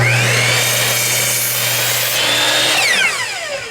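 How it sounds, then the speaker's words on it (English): A power saw bites into a wooden trailer deck board, cutting a 45-degree angle on the end: a loud steady whine that rises in pitch as the blade finishes and winds down. "we're cutting 45s on the ends of all the boards to clearance that"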